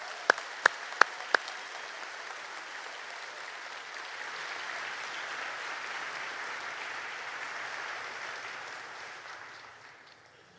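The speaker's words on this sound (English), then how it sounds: "Big round of applause." A few sharp, separate claps ring out first, then a large audience at an award ceremony for distinguished graduates breaks into sustained applause that swells, holds for several seconds and fades away.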